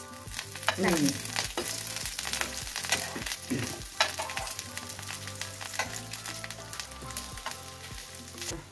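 Jackfruit pakoda pieces frying in hot mustard oil with curry leaves, a steady close sizzle with scattered crackles and occasional utensil clinks throughout.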